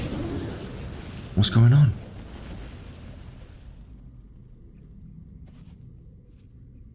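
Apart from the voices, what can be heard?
explosion in the video game Elden Ring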